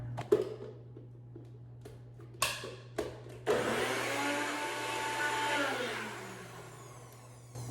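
A kitchen blender whirs up after a few knocks, emulsifying garlic and olive oil with lemon juice and nutritional yeast, a loud steady motor drone that shifts in pitch as it runs.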